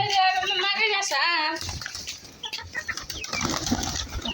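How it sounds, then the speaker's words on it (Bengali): Pigeons take off with a burst of flapping wings after feeding, preceded by close chirping or cooing calls, then scattered rustles and light thuds. "কবুতর উড়াল দিল"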